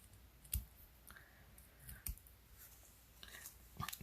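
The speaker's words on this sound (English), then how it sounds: "I think I need to trim this off because I can see it there." Paper cardstock being trimmed at the edge, with a few sharp, close cutting snips spaced about a second or more apart against a quiet room background.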